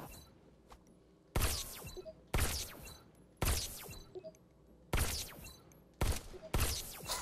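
Six sharp, loud pistol shots in the VR game Robo Recall Unplugged, spaced about a second apart, each with a short ringing tail, over a quiet game background hum.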